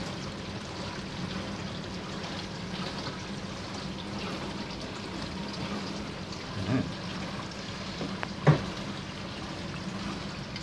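Water sloshes and runs steadily inside a dishwasher mid-cycle, with a faulty flood float switch and the drain pump running continually. The wash is moderately loud and constant, broken by two brief knocks near the end.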